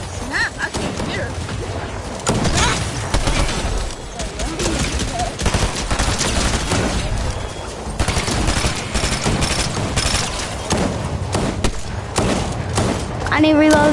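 Video game gunfire rattles in dense bursts through a chaotic multiplayer firefight, loud and nearly continuous, with players talking excitedly over the shooting.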